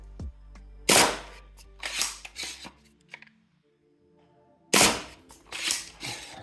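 Worker Harrier foam dart blaster firing, sharp loud snapping shots in two bursts of several quick cracks separated by a quiet gap, with faint rattling handling in between.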